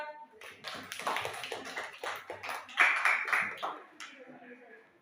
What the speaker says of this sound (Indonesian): Berdiri, tepuk tangan dong untuk dia.